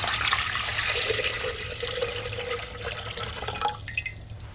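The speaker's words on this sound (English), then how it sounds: "Partly fill the container with water." Water pours from a tap into a partly filled container, a steady rushing splash running almost continuously and then easing off near the end, close by and alone.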